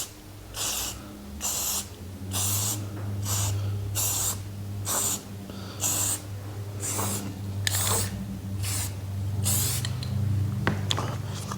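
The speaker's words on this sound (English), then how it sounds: "Just going to do a nice light spray." Repeated short hissing bursts of a spray paint can painting a Mossberg Maverick 88 shotgun, about a dozen evenly spaced light sprays, close by, with quiet pauses between.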